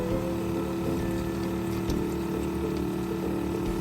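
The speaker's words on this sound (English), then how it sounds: "And then you pour it in." Liquid pours steadily into a pot with a continuous gushing, churning sound and a low mechanical hum underneath, unbroken throughout.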